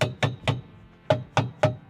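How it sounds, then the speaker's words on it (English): A 3D-printed bracket made on a Bambu Lab printer is hammered into place during a GT3 car build, six sharp, close blows in two groups of three with a short pause between the groups. "Need to hammer it down."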